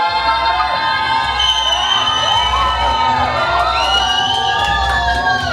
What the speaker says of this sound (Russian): Вот видите, вы громко кричите, громко орете